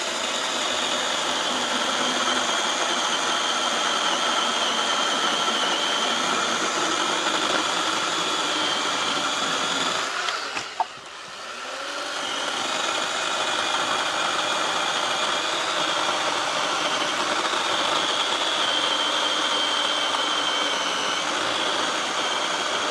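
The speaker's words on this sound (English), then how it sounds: "So there you can see two cuts with the Greenworks saw." Greenworks 40-volt battery chainsaw running steadily at full speed through wood, a loud continuous whine with a brief dip mid-cut before resuming.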